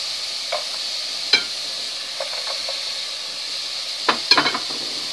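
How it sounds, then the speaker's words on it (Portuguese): Chopped onion sautéing in a pan for a tilapia lasagna: a steady soft sizzle runs throughout, broken by a few scraping stirs of a utensil, close and moderately quiet with no talking. "Refogar a cebola."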